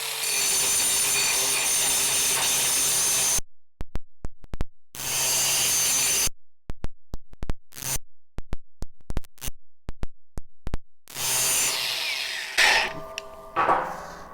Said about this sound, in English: This is the DCG 414. It's probably one of the best grinders.